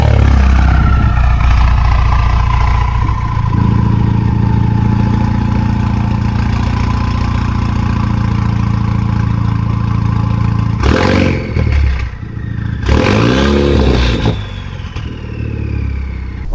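A Ford Focus RS four-cylinder on a straight-pipe exhaust with no cats, resonators or mufflers idles loud and steady and close by, with a deep, rough drone. A couple of short sharper bursts come near the end.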